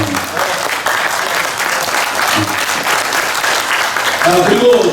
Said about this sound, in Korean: 박수가 좀 해야 될 거 아니에요